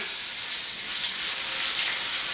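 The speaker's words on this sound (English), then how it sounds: "we want a nice sear and a nice crust" A porterhouse steak sears in a hot pan, a steady, loud hiss of sizzling fat that fills the short moment without pause.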